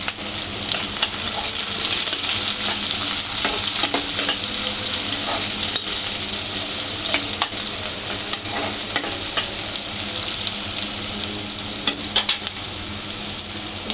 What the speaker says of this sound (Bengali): এখন আমার পেঁয়াজ মরিচ বাজা হয়ে গেছে